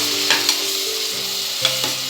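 Ginger garlic paste sautéing in a pan for mutton biryani gives a steady close sizzle, with a few soft spatula scrapes and clicks over the frying hiss.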